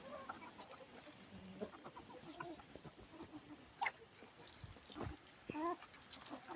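Hens cluck and cackle in short bursts nearby, with soft voices talking quietly in the background.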